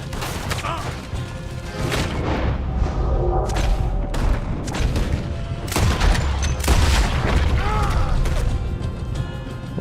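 Gunfire in Red Dead Redemption II: repeated sharp shots and booms crack out irregularly over about ten seconds amid mechanical clatter and crashes, with voices talking in between.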